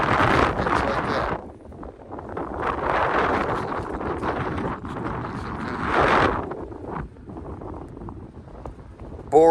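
Strong outdoor wind buffeting the microphone during a motorized bike ride, loud gusty rumbles rising and falling in surges, with brief calmer moments and a sharp bump at the end.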